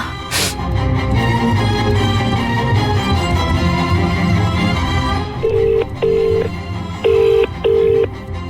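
Under a busy music bed in a TV serial scene, an outgoing call's ringback tone sounds in repeated short beeps, a few evenly spaced pulses toward the end.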